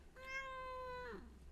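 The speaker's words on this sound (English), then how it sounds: "Cat." A cat lets out a single clear, drawn-out meow that holds steady before sliding down in pitch, close and fairly quiet over low background hum.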